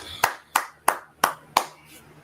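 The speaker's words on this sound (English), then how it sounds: "go ahead and clap it up." Five sharp hand claps in a slow, even rhythm, each one distinct and close with quiet gaps between; too sparse to sound like a full audience.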